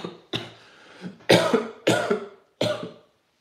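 Five separate coughs spaced across a few seconds, close and fairly loud, with short pauses in between and no talking.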